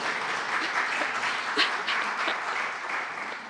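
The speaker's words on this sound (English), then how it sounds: "You can applaud that." A symposium audience applauding, dense steady clapping from a sizable crowd that holds at an even level throughout.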